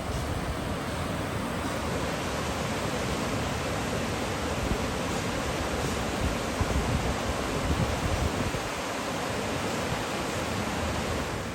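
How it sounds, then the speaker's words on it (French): A small waterfall on Sainte Marie island, Madagascar, gives a steady broadband roar of falling water, unbroken and fairly loud throughout with no voices. "Il y a une petite cascade."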